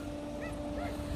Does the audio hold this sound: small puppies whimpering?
yes